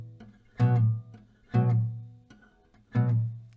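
Three short, muted strums on an acoustic guitar, each chord choked off quickly by releasing the fretting grip, spaced about a second apart.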